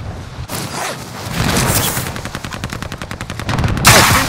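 Rapid automatic gunfire rattles loud and close in a Call of Duty multiplayer match, with a sustained burst of dense shots and sharp louder reports near the end.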